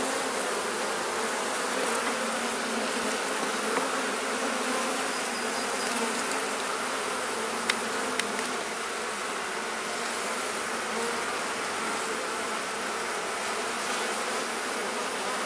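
A dense, steady hum of many honey bees buzzing inside a hive, constant and close, with a couple of faint clicks.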